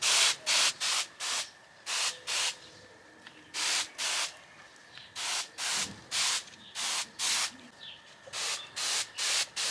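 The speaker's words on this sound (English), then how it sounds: "Then, I was ready to spray it onto the radish leaves" A hand spray bottle mists garlic solution onto radish leaves in a garden. It gives a series of short, close hissing spritzes in quick bursts, with brief pauses between groups of pumps and no talking.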